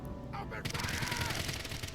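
Gunfire erupts in AI: The Somnium Files - nirvanA Initiative, a sudden loud volley of rapid shots that keeps going after a brief, quieter lead-in with a voice.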